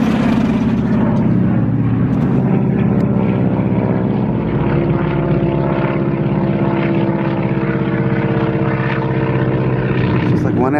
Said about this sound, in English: Is this the same plane?